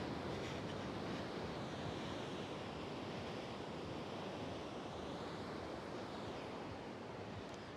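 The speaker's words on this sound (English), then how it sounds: "I saw some pretty big waves though." Surf rolling onto Kuta beach in Bali at sunset, a dense continuous roar of breaking waves with wind buffeting the microphone, steady and fairly close with no voices.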